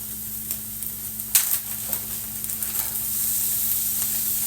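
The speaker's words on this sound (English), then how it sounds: "I'm going to go ahead and add in my ground beef." Already-cooked 73% ground beef crackles and sizzles steadily in a hot pan as it reheats for stuffed bell peppers, with a few sharper pops and stirring scrapes partway through, close and moderately loud with no talking.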